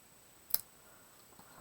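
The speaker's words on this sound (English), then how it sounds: "so I'm just going to snip it because I am" A single short snip of scissors cutting paper for a handmade lumberjack-themed card, one crisp click heard quietly and alone against a faint, still background.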